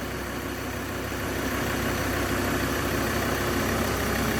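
A Mazda BT-50 Pro 3.2 pickup truck engine, about eight years old, idles at a steady, low rumble, unchanging and continuous with no voices.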